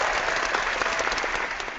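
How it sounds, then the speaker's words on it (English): A crowd claps steadily and densely throughout, a continuous wash of many hands at a fairly loud, even level with no voices standing out. "Clap your hands up."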